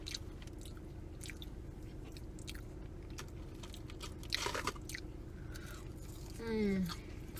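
Quiet close chewing of tater tots dipped in honey mustard, soft wet crunching bites under a steady room hum, with a short murmur of voice near the end.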